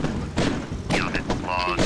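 Gunfire from pirate attackers in the video game Autonauts vs Piratas, a series of booming shots and thuds bursting out over a busy game soundscape, with a voice talking throughout.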